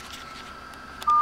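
A single DTMF dialing tone starts sharply at the end of a quiet stretch, keyed to send an access code over a radio autopatch, a radio-to-phone link.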